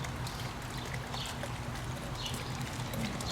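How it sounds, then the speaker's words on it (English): Water trickles steadily into a garden fish pond, a continuous soft splashing wash with no pauses, close by and fairly quiet. "I enjoy sitting next to this and listening to the water"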